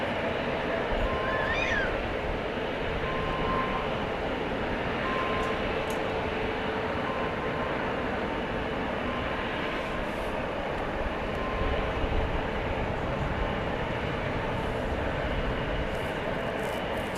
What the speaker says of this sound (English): Another American Eagle about to take flight.